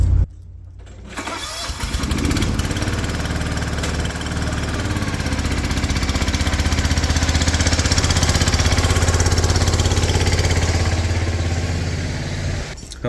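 A riding lawn mower engine cranks and starts while in gear, catching after about a second and then running loudly and steadily with a rough, throbbing idle close by.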